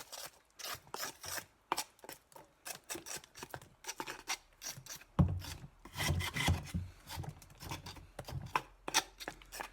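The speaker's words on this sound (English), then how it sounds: "It's important that you scrape off as much as you can while the wax is so hot" Hot wax being scraped off wooden beehive frames from a winter dead-out hive, a close, busy run of rasping, scratching strokes in quick irregular bursts, growing heavier and denser partway through.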